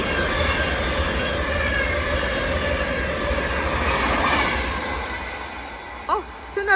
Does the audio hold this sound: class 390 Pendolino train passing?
yes